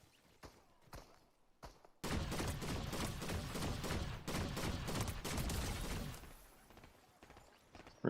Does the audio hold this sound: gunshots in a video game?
yes